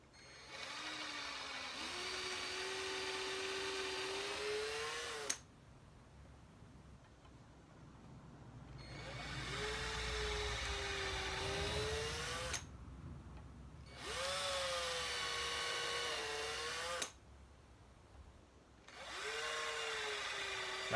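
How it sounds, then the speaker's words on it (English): A power drill drilling through wood whines in three long bursts separated by short pauses, its pitch rising as it spins up, with quiet gaps between. "Whilst you're drilling, make sure to drill straight down"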